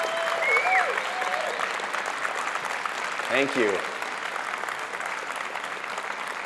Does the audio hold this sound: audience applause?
yes